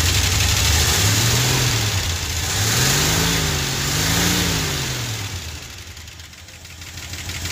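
A 1974 Ford F250 4x4 High Boy truck engine runs after sitting for years, its rough idle rising and falling in slow revs with uneven knocking, loud and close.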